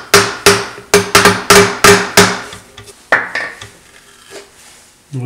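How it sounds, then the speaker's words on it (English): An old woodworking chisel is struck repeatedly to split a waste block off a turned round cutting board on a lathe, giving a rapid run of loud, sharp hammered knocks that thin out into a few scattered taps. "Now I'm going to take an old woodworking chisel and separate this waste block."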